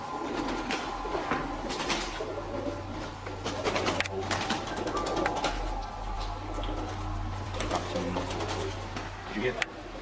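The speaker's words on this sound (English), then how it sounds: "Upstairs, a flock of pigeons burst out of the rafters, nearly sending them running" Pigeons coo and flutter overhead as a flock bursts from the rafters in an echoing space, wings flapping repeatedly while people talk nearby.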